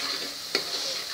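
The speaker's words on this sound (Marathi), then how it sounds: "धण्याची पावडर, काळा मसाला, हळद, हिंग, जिऱ्याची पावडर, लाल मसाला, हे सगळं आपण घालून घेऊया. ते पण अर्धा मिनिटच परतायचं आहे आपल्याला" Ground spices – coriander, black masala, turmeric, asafoetida, cumin and red chili powder – frying in hot oil, a steady close sizzle with one brief clink near the middle.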